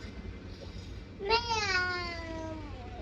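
A person imitates a cat with a single drawn-out meow, rising then slowly falling, voiced close by against a quiet room hum.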